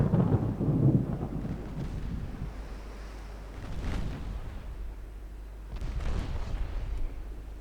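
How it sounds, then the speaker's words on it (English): Naval 7-inch guns fire in a warship battle game, giving three deep booming blasts that each trail into a long rolling rumble, with wind and sea noise between them. "7-inch guns took care of it."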